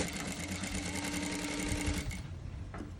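A sewing machine stitches a saree blouse with a fast, steady whirring hum for about two seconds, close and loud, then stops, leaving a faint click and quiet room sound.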